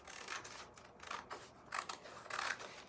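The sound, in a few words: scissors cutting margin off sheet music page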